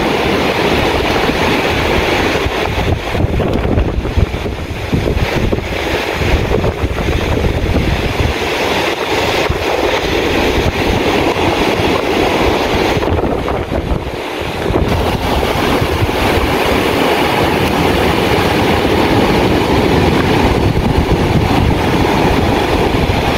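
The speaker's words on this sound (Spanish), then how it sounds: "qué fuerte está el viento" Strong wind on a shore buffets the microphone in a constant loud roar, with gusting rumble and broadband rushing noise throughout, and brief dips in intensity.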